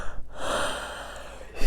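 A single drawn-out yawn, a long breathy exhale that swells and fades over about a second and a half, close and fairly loud, with a short sharp intake at the end and no speech.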